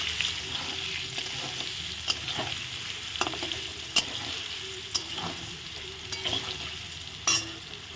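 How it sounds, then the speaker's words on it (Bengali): Mixed vegetables, including pumpkin, frying in oil with turmeric and salt, a steady close sizzle broken by regular sharp spatula taps against the pan. "এখন আমি দিয়ে দেবো একটু হলুদ আর একটু লবণ দিয়ে একটু ভালো করে ভেজে নেব"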